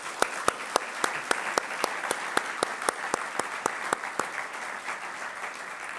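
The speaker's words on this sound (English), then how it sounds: "I want to take a moment and give you all a great round of applause" Applause at a Year Up Bay Area graduation ceremony, a steady run of sharp, evenly spaced claps from a small group, fairly faint and with some room noise behind.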